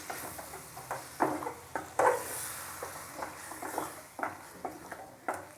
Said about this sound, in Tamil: தயிர் சேர்த்து நல்லா பிரட்டிடுவோம்.